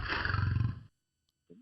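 A single loud, guttural big-cat roar sounds up close and cuts off abruptly, followed by silence and a brief low sound.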